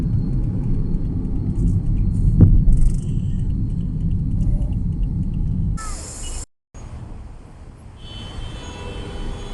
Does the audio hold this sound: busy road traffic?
yes